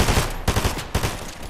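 Rapid bursts of automatic gunfire in a video game firefight, several loud volleys in quick succession with short gaps between them, heard alone with no talk.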